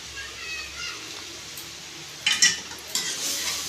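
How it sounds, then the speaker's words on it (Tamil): Cabbage poriyal sizzles softly in a pan while a spoon stirs it, the low frying hiss punctuated by a couple of close scraping clatters against the metal. "இப்படிக்கப்ப கிண்டி விடணும்."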